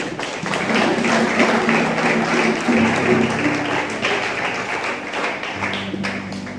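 A church congregation claps and applauds together, a dense, continuous patter of hands that fills the room for several seconds, with music holding steady notes underneath.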